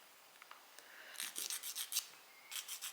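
A small file rasps a wooden garden house model kit: faint scattered scrapes at first, then clusters of short, close, bright rasping strokes in quick rhythm, with no voice.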